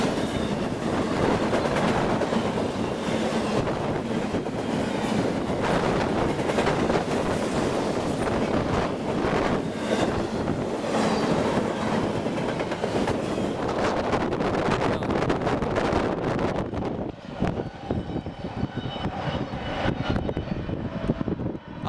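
Freight train passing Modesto station, a loud continuous rumble and rattling of railcars filling the whole stretch, close by and windy, easing slightly near the end.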